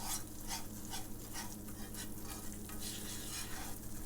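Gravy browning in oil over a gas stove, heard as a continuous quiet frying hiss with a regular rhythm of stirring strokes brushing through the pan, and no one speaking.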